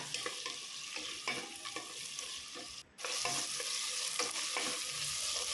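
Tomato being stirred into sautéed onions in a pan, a steady close sizzle of frying with repeated scraping strokes of a spoon, broken by one brief pause before the stirring and sizzling resume.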